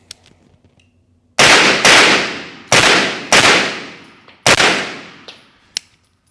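Four loud shots from a B&T pistol-caliber carbine fired outdoors, each a sharp crack with a decaying tail, spaced unevenly over a few seconds with a faint pop at the end.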